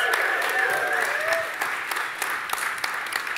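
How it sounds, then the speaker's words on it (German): Warm applause from a conference audience at a Berlin tech event, dense even clapping that holds steady and fairly loud throughout, with faint murmuring voices underneath. "Einen warmen Applaus."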